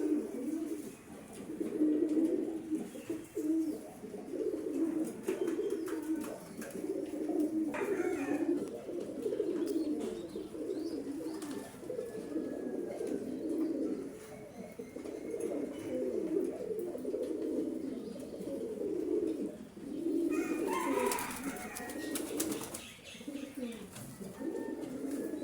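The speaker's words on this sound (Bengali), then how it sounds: "এই যে আমার সবগুলা কবুতর এক এক করে আসছে খাবার খেতে।" Pigeons coo steadily and fairly close as they arrive one by one to eat, a continuous layered murmur of soft, overlapping calls with no talking.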